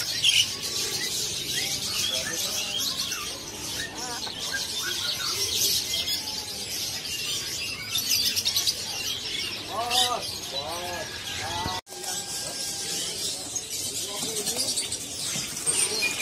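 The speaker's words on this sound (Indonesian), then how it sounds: "nih ada beo Papuanya ya" At a bird market, a Papuan myna gives whistled, swooping calls among a crowd of other chirping and squawking caged birds, with steady background chatter and market bustle.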